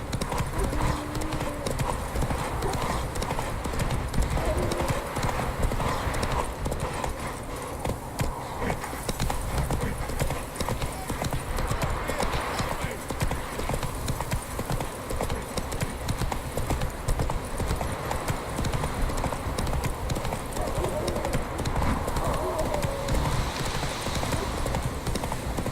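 Horse hooves clip-clop at a steady pace throughout a long stretch of video game audio, with occasional neighs, background game sounds and a voice speaking over parts of it.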